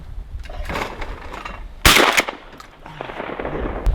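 A shotgun fires at a clay target thrown from a trap, one sharp, loud blast standing out against outdoor background noise, with the report briefly ringing off afterward.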